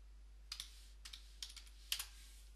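Computer keyboard keys are tapped in a few quick pairs of clicks, close and quiet, against near silence while working in SketchUp.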